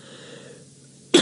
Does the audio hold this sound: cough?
yes